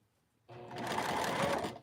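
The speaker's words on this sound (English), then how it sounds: "I'm using the edge of the right side of the foot as guide as I sew along the seam on the bottom of this dress." A sewing machine runs a wide stitch along the bottom seam of a stretch-fabric dress, starting abruptly and whirring steadily for over a second, close and clear with no talk.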